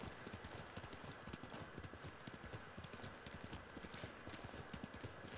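Rapid, steady hoofbeats of a horse galloping in Ghost of Tsushima, a continuous rhythmic clatter at moderate distance with no talking.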